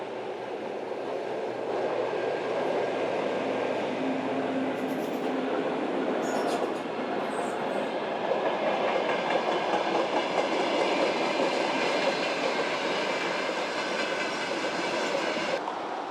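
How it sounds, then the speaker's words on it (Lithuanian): An unseen train runs along the rails nearby, a steady, broad rumble with rhythmic wheel clatter that holds for the whole stretch and eases slightly at the end, with no talking. "Kyba nematomas traukinys važiuoja."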